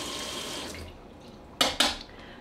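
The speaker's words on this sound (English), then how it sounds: "I'm gonna rinse this knife off too, because I need to cut the peppers in half." A kitchen tap runs as a knife is rinsed under it, a steady close water rush that fades, followed by two short bursts of splashing water.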